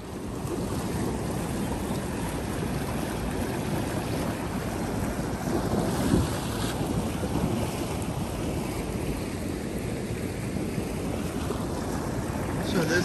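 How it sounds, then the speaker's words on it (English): Floodwater rushes during a flash flood in a Washington DC storm, heard as a dense, continuous roar mixed with wind buffeting the microphone, with no clear break throughout. "All this global warming and all this flooding."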